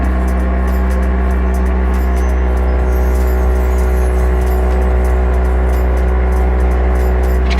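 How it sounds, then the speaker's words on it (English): A foot massager runs in vibration mode, giving a steady loud motor hum with a strong low buzz that holds unchanged throughout, with no talk over it. "I turned on the vibration method feature, and you can hear it."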